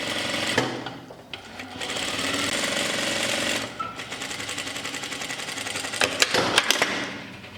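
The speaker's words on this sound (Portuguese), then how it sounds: "Eu vou costurar agora o outro peitilho também" A sewing machine stitches a shirt placket in fast bursts of steady mechanical whirring, with short pauses and a few sharp clacks near the end, close up and with no talk.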